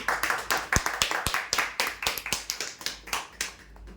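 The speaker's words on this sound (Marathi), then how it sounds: "जोरदार टाळ्या होऊ यांच्यासाठी" Steady applause from a crowd, a dense run of claps filling the whole stretch with a few sharper, louder claps standing out.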